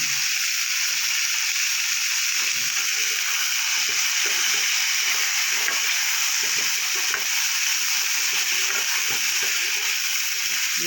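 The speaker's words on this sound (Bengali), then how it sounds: "আলুটা আমার অনেকটাই ভাজা হয়ে গেছে" Potato and bitter gourd fry in a pan with salt and turmeric, giving a steady, close sizzle with faint stirring scrapes throughout and no talk.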